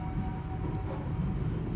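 Brantas economy-class train pulling out of Pekalongan station, a steady low rumble of rolling carriages close by, continuous and even with no voices.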